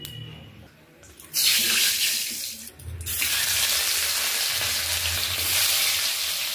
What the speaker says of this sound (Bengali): প্রথমেই মাছগুলো আমি হালকা করে ভেজে নেব